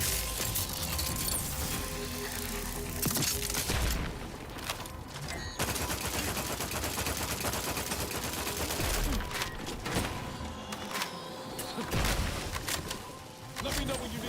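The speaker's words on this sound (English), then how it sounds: "They're shooting mortars at us now." Mortar fire and gunfire in a sci-fi galaxy exploration video game, rapid bursts of shots and booming impacts over a dense battle soundscape, with people talking throughout.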